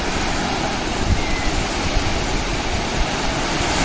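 Ocean waves wash over the sand at Radhanagar Beach in the Andaman Islands, a loud, continuous roar of surf that stays close and steady throughout, with no voices.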